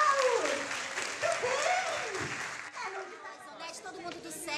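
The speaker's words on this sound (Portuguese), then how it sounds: "Muito bem, palmas pra ele," Audience applause for a circus performer at a live show, steady dense clapping throughout while an excited voice talks loudly over it.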